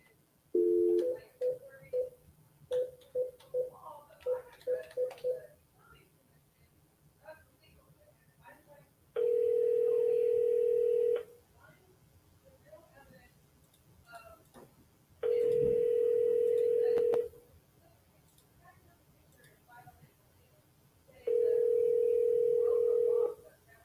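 A phone call is placed with a quick run of dialing tones, followed by three long, evenly spaced ringback tones as the call rings out toward voicemail. Faint background noise sits between the rings.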